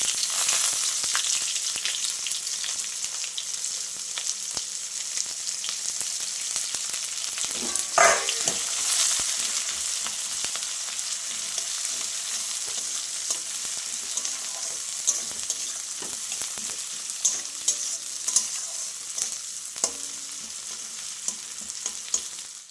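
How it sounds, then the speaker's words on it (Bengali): Onion frying in hot oil tempered with bay leaf and cumin, a steady bright sizzle running throughout with occasional stirring clatters and a brief louder burst partway through, no talking. "এই তেলের মধ্যেই আমি তেজপাতা আর জিরে ফোড়নে দিয়ে দিচ্ছি জিরেটা হয়ে গেছে এখন আমি পেঁয়াজটা দিয়ে দিচ্ছি"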